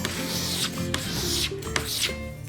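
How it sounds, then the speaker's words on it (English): Soft filler is scraped off a wooden surface in several close, rasping strokes, a continuous gritty scratching punctuated by a few sharp scrapes. "Once you scrape off the material"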